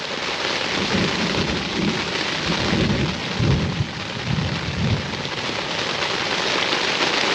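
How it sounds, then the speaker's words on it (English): Steady rain pours throughout in Creede, Colorado, while low, rolling rumbles of thunder swell and fade in the middle, loud and close. "Girls, you hear that thunder?"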